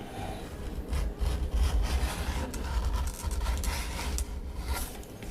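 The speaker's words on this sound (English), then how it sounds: "cut some strapping material" Leather strapping material for a knife sheath is being cut, giving close, rough, rhythmic rasping and scraping strokes that run continuously through the short stretch, with no speech.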